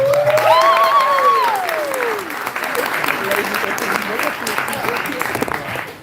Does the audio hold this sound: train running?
no